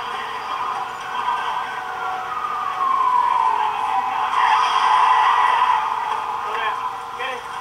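Police car siren in the Battlefield 3 game campaign, wailing in rising and falling sweeps beneath game noise, with tire skids and a voice talking over it.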